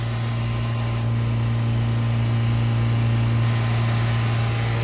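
A Toyota Xenia with an overheating problem runs with its engine held steady at about 3000 RPM, a continuous, even drone with a strong low hum and no change in pitch throughout.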